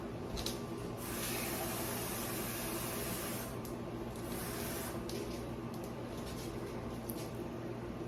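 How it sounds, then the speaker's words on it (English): Water is filled into a container while preparing an emergency meal kit, giving a steady hissing, splashing stream that runs continuously, with brief pauses in intensity. "Then I'm going to fill this up with water."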